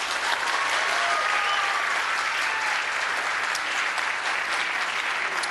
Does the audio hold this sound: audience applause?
yes